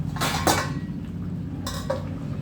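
A metal lid set onto a cooking pot of old-style taro root (chamadumpa) curry, giving a couple of close clanking knocks and a rattle, followed by a lighter tap later.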